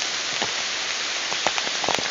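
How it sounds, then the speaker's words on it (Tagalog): Heavy rain pours steadily onto surfaces at a fishing spot, a dense continuous hiss with scattered louder drops, no voices. "Wala namang bagyo pero malakas ang ulan."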